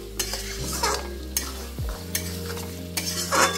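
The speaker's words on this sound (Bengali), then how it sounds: "এবার আমি এটাকে নাড়বো।" Mutton curry being stirred in a pot on a gas flame while it braises, several distinct scraping strokes over a soft sizzle, close and fairly loud with no voices.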